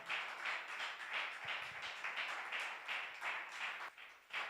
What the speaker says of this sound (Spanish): Dele aplausos a Jesús si puede.